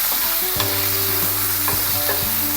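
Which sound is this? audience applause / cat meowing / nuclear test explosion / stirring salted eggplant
stirring salted eggplant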